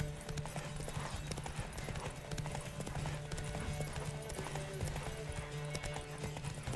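A horse gallops in The Witcher 3 with a rapid rhythmic clip-clop of hooves, steady and close, alongside game sounds and brief voice bits.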